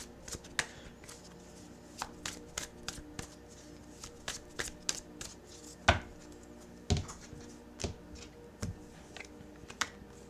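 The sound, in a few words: shuffling tarot cards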